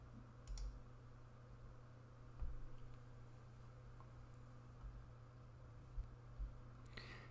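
A computer mouse clicks a few times, quiet and isolated, with sharp single taps spaced apart over a low steady hum.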